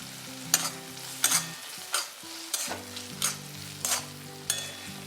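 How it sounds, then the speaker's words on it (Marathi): Spoon scraping and stirring through flour mixed into frying drumstick zunka in a pan, a steady sizzle under rhythmic strokes about once every half second, close up with no talk. "आता थोडं थोडं पीठ आपल्याला घालायचं आहे आणि हे एका बाजूने मिक्स करायचं"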